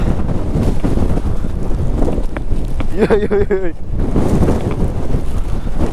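Strong monsoon wind roars steadily against the microphone of a motorbike riding through rain near Chikmagalur, a dense buffeting rush throughout, with a voice briefly breaking through midway.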